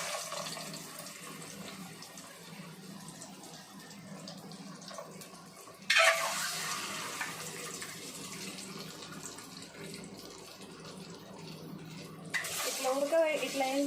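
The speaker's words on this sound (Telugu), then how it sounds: "వేసి ఈ ఉడకబెట్టిన ఎగ్స్ ఇట్లా పెట్టి ఇట్లా వేసుకోవాలి." Boiled eggs being fried in oil in a pan for egg biryani: a steady close sizzle with stirring and scraping, which grows louder and brighter in two sudden surges.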